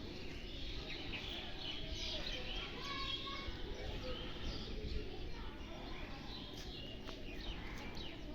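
Many parrots and crows call from trees in a village, producing dense, faint, overlapping chirps and squawks at a distance over steady outdoor background noise, with a voice talking low underneath.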